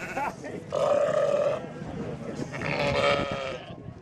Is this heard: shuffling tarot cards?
no